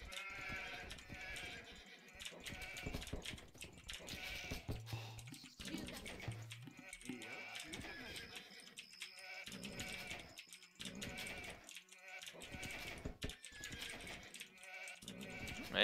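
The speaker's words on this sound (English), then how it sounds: "some sheep at the back there" Sheep bleat now and then in an Age of Empires match, short game-unit calls scattered over a steady bed of game music and interface clicks, with no talk.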